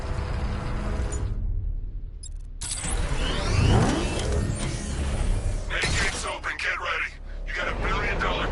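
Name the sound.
Batmobile car arriving in video game Batman Arkham Knight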